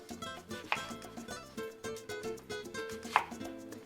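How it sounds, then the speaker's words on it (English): Knife quartering an onion on a cutting board, two sharp chopping strikes about two seconds apart, close and clear over soft background kitchen noise and faint music-like tones. "So I'm just gonna go ahead and quarter this"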